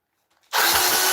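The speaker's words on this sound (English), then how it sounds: "take the drill driver, because otherwise we'll be here all day" A cordless drill driver drives screws into wood on a woodturning bench, starting abruptly after near silence and then whirring loud and steady at close range with no talk.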